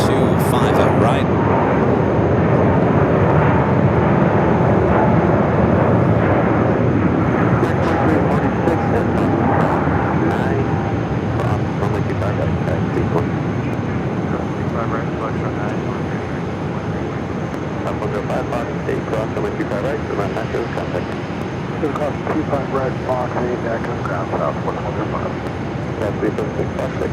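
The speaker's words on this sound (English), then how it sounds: "a United A321 Neo, now rolling down to 25 out right" A United Airbus A321neo rolls down the runway at Phoenix Sky Harbor, a steady broad jet engine roar at moderate distance, with someone talking over it throughout.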